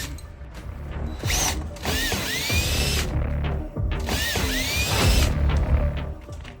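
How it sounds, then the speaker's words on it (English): A power driver backs out quarter-inch screws from a house gutter, its motor whirring in two long, loud, close bursts with rising and falling pitch and mechanical clatter, without talking. "You're gonna need a quarter inch driver, okay? Because these screws right here, the screws right here are 1/4 inch."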